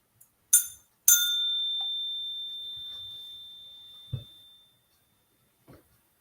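A bell rings twice with bright metallic strikes, the second tone sustaining a long, slowly fading ring over several seconds, followed by a few faint knocks.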